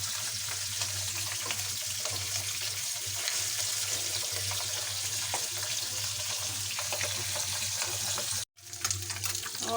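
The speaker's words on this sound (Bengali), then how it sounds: "হালকা করে ভেজে নিই মাছটা" Pabda fish sizzles steadily in hot oil in a pan, a loud continuous hiss close up that cuts out briefly near the end before resuming.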